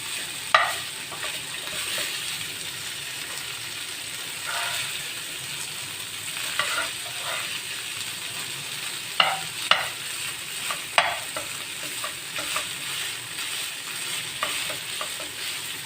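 Beef for hunter beef burgers sizzles steadily in a hot pan, with occasional scraping and stirring clatters from a utensil; no talking.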